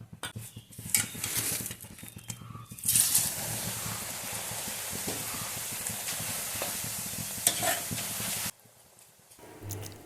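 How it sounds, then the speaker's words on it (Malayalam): A utensil scrapes and clinks against a pan as dry flattened rice is stirred and tossed over a steady sizzle, stopping near the end. "അങ്ങനെ നമ്മൾ അവിലൊക്കെ വറുത്തെടുത്തു"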